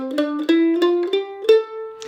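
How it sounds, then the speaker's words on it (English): A mandolin plays an A natural minor scale as a quick run of single plucked notes climbing in pitch, each ringing briefly, close and clear with no voices. "basically the A natural minor scale sounds like this."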